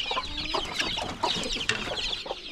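Several chickens cluck busily together at close range, a dense chatter of short overlapping calls with no voices.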